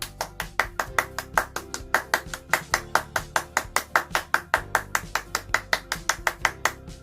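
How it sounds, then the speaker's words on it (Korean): Children at a church worship gathering clapping for friends with March birthdays, an evenly spaced single-pair rhythmic clap repeating steadily at close range with no voices. "우리 모두 멀리 있지만 있는 자리에서 힘찬 박수를 보냅시다."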